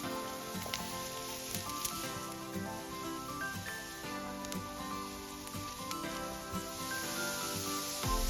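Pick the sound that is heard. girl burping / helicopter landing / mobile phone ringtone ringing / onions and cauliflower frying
onions and cauliflower frying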